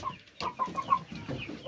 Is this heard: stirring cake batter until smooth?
no